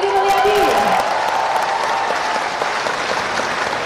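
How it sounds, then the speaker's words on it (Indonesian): An audience at a political gathering breaks into lively applause for Deddy Mulyadi, a dense wash of clapping with a brief tonal sweep near the start, continuing steadily to the end. "Kita beri tepuk tangan yang meriah untuk Deddy Mulyadi."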